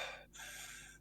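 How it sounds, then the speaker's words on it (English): Loud breathing picked up too close by a microphone: a short sharp inhale, a brief gap, then a long hissing exhale, near and harsh. "We can hear your breathing really loud now"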